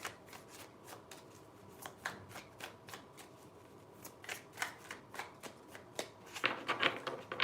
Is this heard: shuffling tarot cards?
yes